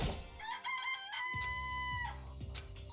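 Chickens cluck and crow in the video game Danganronpa, a bright rooster-like call standing out over a steady layered game music bed with no talking.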